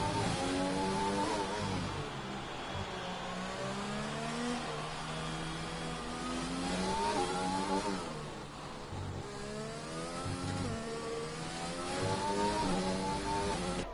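A Williams race car engine in a racing video game, set at Singapore, screams steadily and rises and falls in pitch through shifts and corners, loud and continuous throughout, with no one talking.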